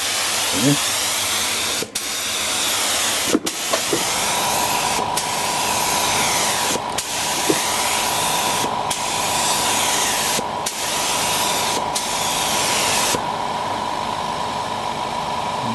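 An inexpensive HVLP spray gun fed by a OneStep 40 L air compressor sprays latex paint from a disposable cup, a loud steady hiss broken by several short pauses and clicks.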